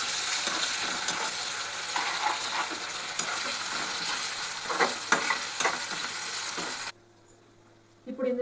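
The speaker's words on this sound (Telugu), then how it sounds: "జింజర్ గార్లిక్ పేస్ట్ వేసిన తర్వాత ఇది పచ్చి వాసన పోయేంత వరకు ఫ్రై చేసుకున్నాం" Ginger garlic paste fries for a mutton curry, a loud continuous close sizzle with stirring scrapes that cuts out near the end, leaving brief quiet and a faint noise.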